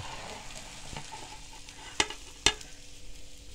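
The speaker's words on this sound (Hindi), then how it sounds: "ये वाली साइड भी हम हल्की आंच में 5 मिनट पका लेंगे इसको" A Spanish omelette of potatoes and egg fries on low heat in a pan with a soft, steady sizzle, broken by two sharp clinks or knocks near the end.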